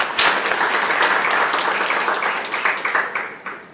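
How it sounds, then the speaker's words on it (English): Audience applause at a stakeholder roadshow in Durban honouring young fiber optic cable installers, a dense steady wash of many hands clapping that tapers off toward the end. "let's give a round of applause for that"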